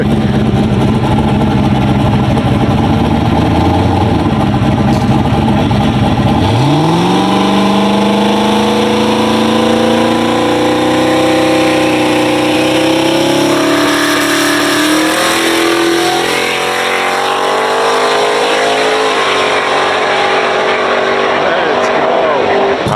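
A loud twin-turbo LS-swapped Dodge Charger revs and accelerates hard on a track, the pitch climbing steadily through gears, with turbo whine and people talking over it.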